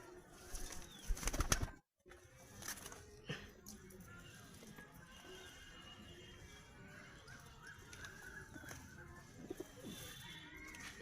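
Domestic pigeons, among them a young green-barred squab and Madras-type hens, coo softly in a loft, a low murmuring chorus with wing flutters and a burst of louder handling noise near the start.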